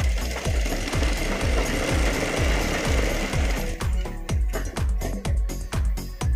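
A sewing machine stitches a blouse seam in quick, regular mechanical bursts that run rhythmically and close by, with a brief change in pace partway through.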